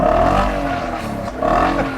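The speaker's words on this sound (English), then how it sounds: "Car starts up, kind of loud, not too bad, but then you go to put your foot down" A 2024 Nissan Patrol Warrior engine roars close and loud under hard acceleration, a steady deep rumble that dips briefly in the middle and then swells again.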